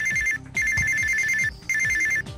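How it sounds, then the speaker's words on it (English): A telephone rings in an anime episode: loud, close, shrill electronic bursts in three long pulses with short gaps between them, with no voices over the ringing. "The phone is ringing!"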